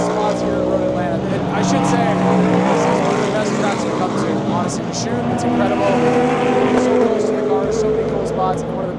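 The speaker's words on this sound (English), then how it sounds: "you can see the cars kind of flying by the hill" Race cars at Road Atlanta sweep past over a hill, a continuous layered engine roar with shifting pitches as several cars pass at mid distance, mixed with talk.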